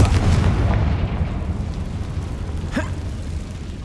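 A Confringo fire spell lands in Hogwarts Legacy with a dull, rumbling blast, a steady roar of low booms filling the whole moment, plus a brief sharp crackle near the end.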